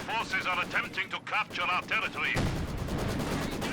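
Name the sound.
machine gun fire in video game Company of Heroes 2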